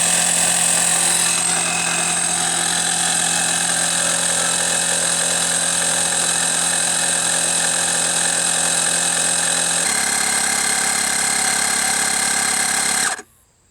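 A Wolfbox MegaFlow 2 rechargeable tire inflator pumps up a 16-inch van tire from about 6 psi, its motor droning loud and steady for several seconds before shutting off abruptly.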